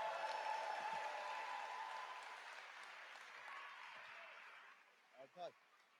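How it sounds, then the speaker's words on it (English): Applause from a convention audience at an anime convention closing ceremony, a fairly faint crowd clapping that tapers off, with brief voices near the end. "Give him a round of applause."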